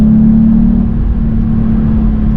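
Loud, steady engine drone inside a VW Up! GTI being driven and revved hard, a strong sustained engine note over low road rumble that eases slightly partway through, with no talking.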